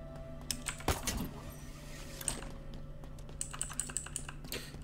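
Computer keyboard keys clatter in quick, irregular bursts during Halo Infinite campaign play, close and moderately loud, over a low hum of game sound.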